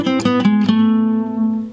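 A guitar plays a short gypsy jazz lick in the harmonic minor: a quick run of a few plucked notes that settles into one sustained, ringing tone, heard alone and fairly loud.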